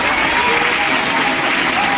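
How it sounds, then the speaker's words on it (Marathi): A poetry recital audience bursts into loud, dense applause, a steady wash of close, continuous clapping that lasts throughout. "एकदा जोरदार टाळ्या तुमच्यासाठी सुद्धा."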